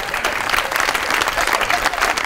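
A studio audience at a comedy talk show gives a dense, even round of applause throughout.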